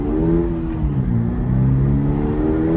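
A Toyota GR86 fitted with upgraded brake pads accelerates back up to speed, its engine note climbing steadily and loud in the cabin with a constant road rumble beneath, no voices.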